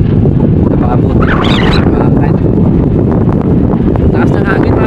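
Strong wind buffets the microphone with a steady, loud roar that continues throughout.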